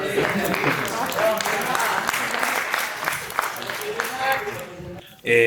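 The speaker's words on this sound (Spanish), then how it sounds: "Un aplauso, por favor." Applause from an audience at an evening panel discussion, a sustained dense patter of many hands that holds steady, then tapers and drops away near the end.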